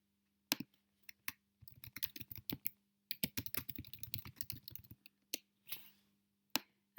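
Typing on a computer keyboard into a text box, bursts of quick close clicks broken by short pauses and a few isolated key taps over a quiet low hum, no talking.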